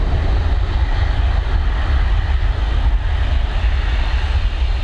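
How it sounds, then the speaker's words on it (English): An Airbus A321 departs Dublin Airport from runway 10R bound for Istanbul, its jet engines giving a loud, close, sustained roar with heavy low rumble throughout. "this A321 now heading over to Istanbul"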